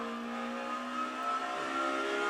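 Car engine in a sim racing game, driven with a MOZA HGP shifter, accelerating out of a corner, a steady buzzing engine tone rising slightly in pitch, close and alone without speech.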